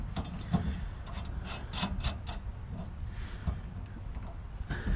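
A sway bar part being slid into place on a Toyota Tundra, a continuous close metallic rubbing and scraping with small knocks over a low background hum.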